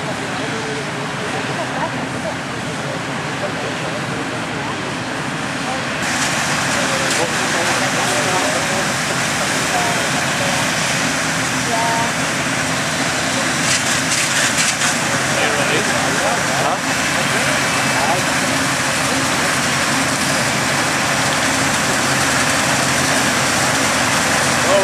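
John Deere combine harvester harvesting in a field, a loud continuous engine drone and rushing machinery noise throughout, close by, with someone speaking over it.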